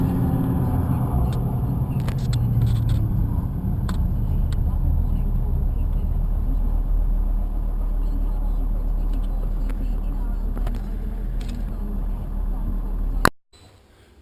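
Engine rumble of a truck on the move, a steady low drone with road noise that holds through the whole stretch and then cuts off abruptly near the end.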